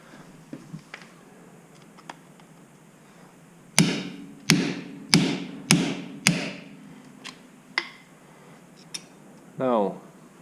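Hammer blows on the front hub seal of a Ford TW15 tractor inside a cluttered shed, five loud metallic strikes in a steady rhythm preceded by faint taps and followed by a few lighter knocks and a brief scrape.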